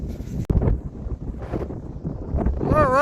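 Strong 50-mile-an-hour gusts buffet the microphone atop a cloud-covered mountain summit on the Appalachian Trail, a rough roaring rumble that surges and rustles unevenly.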